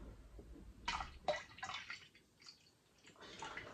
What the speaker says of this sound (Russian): Вот водичку я тепленькую налил